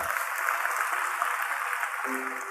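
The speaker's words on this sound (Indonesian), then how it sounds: "kasih tepuk tangan buat mereka" A church congregation applauds during a worship service, a steady wash of clapping with no speech, ending as a sustained tone enters near the close.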